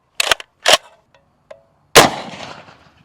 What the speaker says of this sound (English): Moving up to the Gold Scar, shooting around a 308.